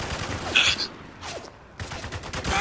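Heavy gunfire in the shooter game Spec Ops: The Line, short bursts of rattling shots with a sharp crack or two, close and loud, broken by a brief quieter gap.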